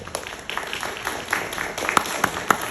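An audience at a lawmakers' meeting applauds with a steady patter of clapping for a county tax collector, with a few sharper claps standing out toward the end.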